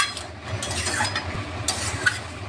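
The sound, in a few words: Malabar spinach chachchari being stir-fried in a pan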